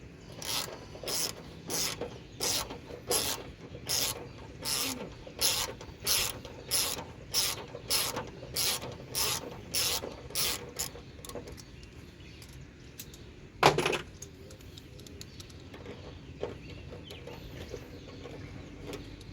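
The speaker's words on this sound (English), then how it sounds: "that one's gonna need a ratchet" A hand ratchet clicks in quick, even bursts, about fifteen regular strokes, while loosening a tailgate bolt on a 1970s Ford or Mercury station wagon, followed by a sharp metallic clunk and quieter handling noises.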